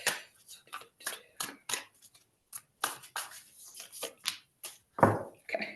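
Tarot cards are shuffled by hand in quick bursts of riffling and flicking, close and quiet, with short pauses between.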